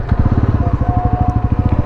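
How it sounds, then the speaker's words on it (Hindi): Motorcycle, either a Bajaj Pulsar NS400 or a Yamaha MT-15, riding along a road in Nepal, its engine giving a steady loud rhythmic pulsing drone with wind noise and no talking. "बड़े दिनों के बाद अपना बाइक पे हूँ"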